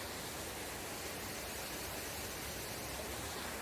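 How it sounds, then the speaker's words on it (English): A trail waterfall with many cascades, heard as a steady, faint, even rush of falling water with no voices over it. "It's a pretty cool waterfall, a lot of cascades to it."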